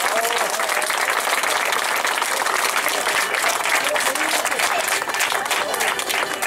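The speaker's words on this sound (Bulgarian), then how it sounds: "вашите аплодисменти за Пламен Камбуров" Sustained crowd applause fills an outdoor car race awards ceremony, steady and dense throughout, with an announcer's voice faintly mixed in.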